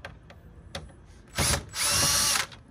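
A power drill whirs in two short bursts, backing screws out of a DVD player casing, preceded by a few faint clicks and handling taps.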